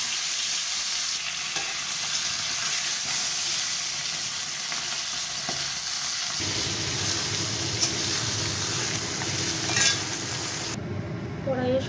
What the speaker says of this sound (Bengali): ভালো করে মাছের মাথাটাকে ভেজে নেব